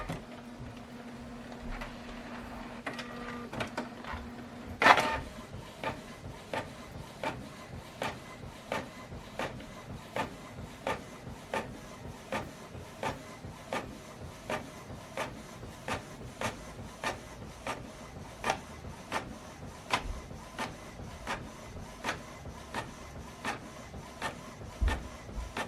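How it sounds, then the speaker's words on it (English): A Canon printer works through a document with a steady train of regular clicking and ticking mechanical pulses, preceded by a brief whirring hum and a sharp clunk as it starts up, close by with no talk. "So now this document is going to print out from this printer,"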